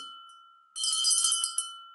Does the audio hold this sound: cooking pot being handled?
no